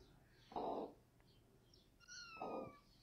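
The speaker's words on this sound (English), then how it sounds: "No, they're kittens." Kittens meowing, two soft separate mews a couple of seconds apart, faint and close in a quiet setting.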